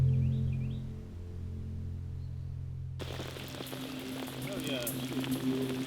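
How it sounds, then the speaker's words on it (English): Heavy rain drums steadily on an anglers' gazebo at a tench fishing lake, a dense close hiss that starts abruptly and continues without a break. "and as forecast, heavy rain began"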